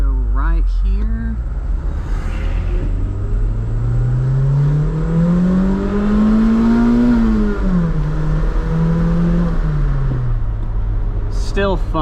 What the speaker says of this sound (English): that turbo did spool up